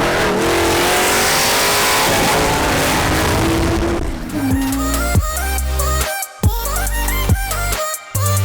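A car on the road to Las Vegas gives loud, close road and wind rumble at first, then the engine note rises and falls through repeated revs and gear changes with short dips between.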